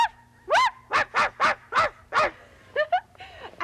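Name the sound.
voice imitating a small dog yapping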